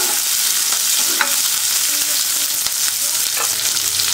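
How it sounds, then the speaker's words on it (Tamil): Small shallots sauté for a fenugreek kuzhambu with a loud, dense, continuous sizzle. Occasional stirring scrapes cut through the crackle, close up, with no speech. "சின்ன வெங்காயம் தான் நல்லா டேஸ்ட்டாக இருக்கும் வெங்காயம் வந்து நல்லா வதங்கணும்"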